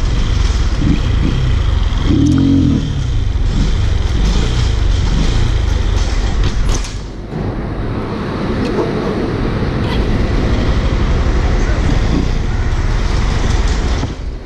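Motorcycle engine revving loudly and steadily throughout a wheelie practice lesson, the drone rising and falling with throttle and briefly dipping partway before climbing again.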